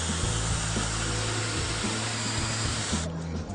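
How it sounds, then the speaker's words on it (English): A power drill fitted with a glass and concrete bit bores into flaky slate, a loud continuous whirring grind with slight shifts in pitch, stopping abruptly near the end. "if you're drilling slate, it's very flaky"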